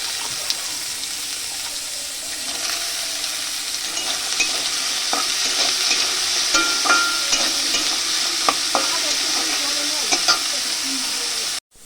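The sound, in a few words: frying carrots in oil in a kadai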